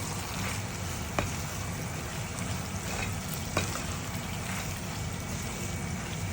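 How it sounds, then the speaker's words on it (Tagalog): Binagoongan with tofu stirred in a pan: a steady, close sizzle of frying fills the whole stretch, with a couple of soft utensil knocks against the pan. "Nahalo ko yung tofu dyan. At haluin na ulit."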